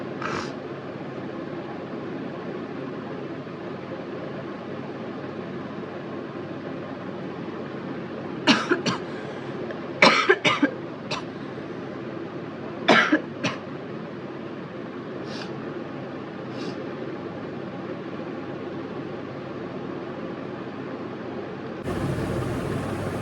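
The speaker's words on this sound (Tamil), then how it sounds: "இருமல் வேலை வந்துருச்சு இடையில" A few sharp coughs break through steady background noise, two short bursts close together in the middle, then quieter.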